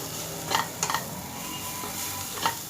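Spicy Indian masala pasta with Maggi Masala-ae-Magic seasoning and salt is stirred in a hot pan, a steady low sizzle punctuated by three or four sharp spoon scrapes against the pan.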